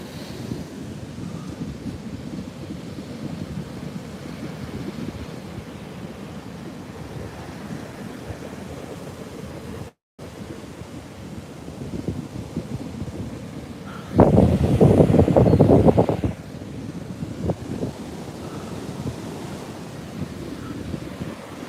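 Ocean waves wash onto the shore at Montauk under steady wind buffeting the microphone, a continuous rolling roar with one louder, heavier surge crashing near the middle.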